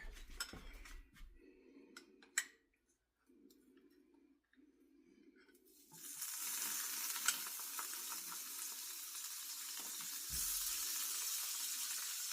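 Bacon grease is spooned into a skillet while cooking French cassoulet: a few light metal clinks and scrapes in a quiet kitchen, then a loud, steady, close sizzle takes over and continues to the end.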